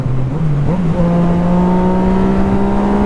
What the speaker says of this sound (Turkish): Neyse biraz gazlayalım.